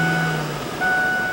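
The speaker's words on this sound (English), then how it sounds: "It's your rear backup beeper." The reverse backup beeper of a 2005 Ford E-150 cargo van with a 4.6-liter V8 sounds two steady, piercing tones close by, set against an idling engine hum.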